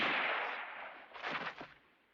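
Gunshot in a western movie, For a Few Dollars More: a sharp blast decaying into a rolling echo, followed by a second burst around the middle, moderately loud with no voices.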